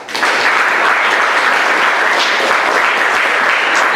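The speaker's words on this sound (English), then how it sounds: "can we all give a round of applause?" Audience applause at a talk by the co-founder and CEO of the shoe company Birdie, a loud, sustained wash of clapping from a large crowd, steady and full for several seconds.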